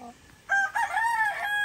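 A five-and-a-half-month-old yellow-legged hatch rooster crows once, loud and close, a rising then wavering call lasting about a second after a short quiet lead-in.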